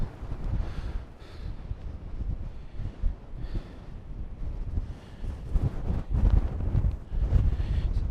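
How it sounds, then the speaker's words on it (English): Strong wind on the Faroe Islands buffets the microphone in deep, rumbling gusts that surge and ease without a break, loud and close throughout. "So the wind has picked up quite greatly, which is a shame, but never mind."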